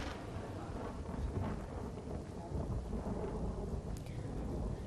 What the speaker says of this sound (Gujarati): દ્વારકાના કાટકોલા ગામમાં ધોધમાર વરસાદ થયો